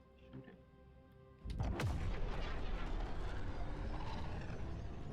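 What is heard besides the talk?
gunfire shooting in video game Jump Space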